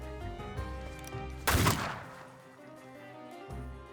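An enemy's gun ability firing during a fight in The Thaumaturge, a single loud, sharp burst of gunfire over a tonal music bed that trails off into quieter score.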